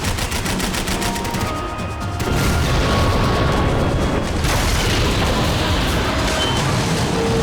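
Dense gunfire in the video game Max Payne 3, rapid overlapping shots and booming blasts hammering continuously and loudly throughout, growing heavier partway through.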